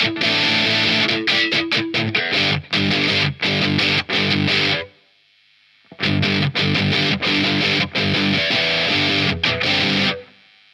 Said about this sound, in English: that distortion's getting darker